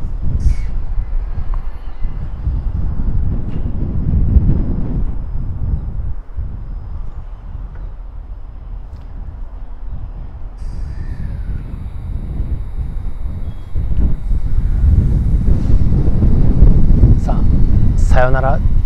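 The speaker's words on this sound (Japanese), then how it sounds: "まもなくドアが閉まって出発するかと思われます。" A Tohoku Main Line train idles at Sugita Station platform in Fukushima amid wind and rumble, then its doors close, its motor swells and a rising electric whine and screech mark the departure; a voice talks over it.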